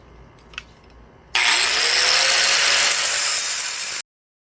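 A grinder bites into scrap steel being shaped into throwing stars, a loud, steady, high-pitched whine and rasp lasting under three seconds after a quiet start with one small knock, then abrupt silence.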